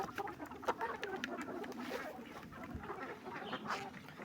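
Chicks and ducks in a poultry pen cluck and quack steadily while pecking at vitamin-enriched feed, a busy, continuous flock chatter close by with no talking.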